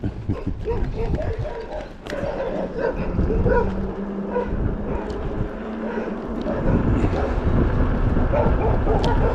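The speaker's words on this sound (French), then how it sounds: "Alors on se fait accueillir toujours par les chiens." Dogs barking and yipping at passers-by on a countryside walk, repeated barks at mid distance mixed with footsteps, movement noise and people talking.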